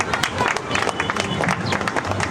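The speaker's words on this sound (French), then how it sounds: "on peut applaudir." Audience clapping at a foundation's opening ceremony, a steady patter of many hands at moderate loudness, with some voices mixed in.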